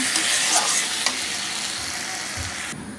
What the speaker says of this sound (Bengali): মাছের ঝোলটা দিয়ে মাছটা ছেড়ে দিলাম এটা আস্তে আস্তে ফুটুক